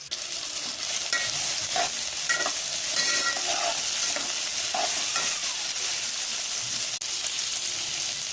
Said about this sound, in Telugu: వీటిని బాగా ఫ్రై చేయాలి, కలర్ చేంజ్ అయ్యేంత వరకు